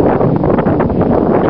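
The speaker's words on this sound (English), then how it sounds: "These March winds are blowing hard today." Strong March wind buffets an outdoor microphone in a dense, continuous low roar that swells and dips slightly, loud and close throughout the short stretch.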